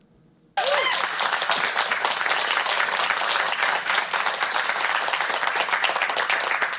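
Crowd clapping at a political rally, a dense, steady burst of applause that starts abruptly after a brief quiet moment and holds loud and continuous throughout.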